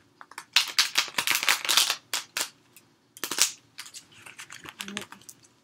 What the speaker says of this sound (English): Alright, I'm going to shuffle like this.